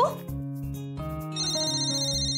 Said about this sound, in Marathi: अगं अविनाशचा फोन आहे ऑफिस मधनं.